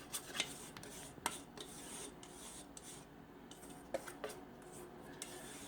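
A spatula scrapes cream cheese filling from a mixing bowl for a braided cherry Danish, giving soft rasping rubs with a few sharper clicks against the bowl, close and quiet.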